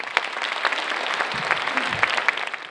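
Concert audience applauding a pianist at a festive concert in Khimki, a steady dense wash of clapping from a crowd, moderately loud and continuous throughout with no talking over it.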